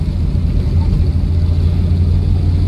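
A 1959 Alvis TD21 with its torquey 3-litre straight-six drives along at a steady cruise, giving a continuous deep, low engine drone close by with road rumble.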